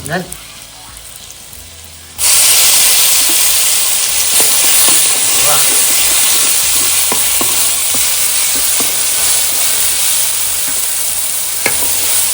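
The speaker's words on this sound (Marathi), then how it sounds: "ही मिरचीची चटणी त्यामुळे तेलात चांगली भाजून घ्यायची" Red chili chutney for a fish gravy being fried in hot oil, a loud, steady sizzle that bursts in suddenly after a quieter opening with some talk, with scattered pops and spatters throughout.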